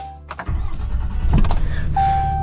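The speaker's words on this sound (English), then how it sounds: "that cranks way faster than I've ever heard this truck crank" A pickup truck camper's engine cranks briefly on freshly installed batteries, then catches and settles into a steady idle, with a chime sounding before and after.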